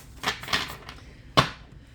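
A tarot card deck is shuffled by hand. Three or four short, crisp riffling bursts sound close and fairly quiet, with pauses between them and no talking.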